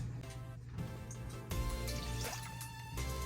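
Water is poured into a cup to make a cornstarch mixture, heard as a series of close dripping and splashing pours that stop and restart, with a brief trickle and no talking.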